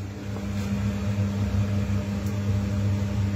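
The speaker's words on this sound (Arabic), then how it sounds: "كي تكون لا شوديير تمشي دروك، هذه راهي شعلتها راهي تمشي" A Lawa Warmhaus 28 kW gas boiler runs with its burner lit, giving a steady, close, low droning hum and roar with an even level throughout and no talk.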